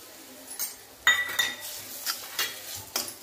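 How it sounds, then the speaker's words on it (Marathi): Whole spices roasting in oil in a pan for a Kolhapuri black masala, with a metal spoon clinking and scraping against the pan in several quick strokes over a faint sizzle. "आता याच तेलामध्ये फुल मसाला भाजून घेऊया।"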